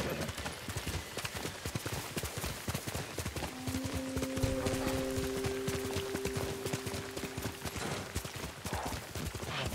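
Horse hooves clip-clop steadily at a travelling pace in the video game Ghost of Tsushima, a continuous gait under faint ambient game sounds and a soft musical tone.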